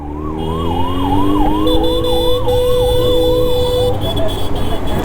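An ambulance siren wails loudly and steadily in a repeating rising-and-falling sweep, close by in Bengaluru street traffic, with a second steady horn-like tone joining midway over constant road noise.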